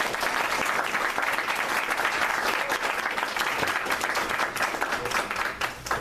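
Audience at a political talk breaks into loud, sustained applause, many hands clapping densely and evenly throughout with no pauses.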